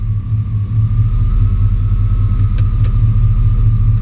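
A truck engine idling low and rough, a steady close throbbing rumble with a pulsing low beat, two brief ticks near the end, no stall heard.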